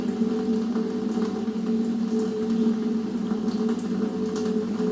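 Water runs steadily from a tap during hand washing, a continuous close hiss and splash with no talking.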